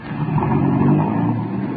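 Old-time radio drama effect of a 1930s car pulling away: a steady, loud engine drone with low rumble that holds throughout, no voices over it.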